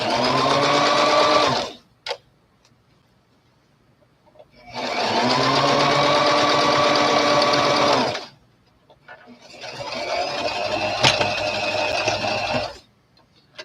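A sewing machine stitches an antique-style doll underskirt with wine-colored thread, sounding in three steady humming bursts of several seconds each, separated by short pauses.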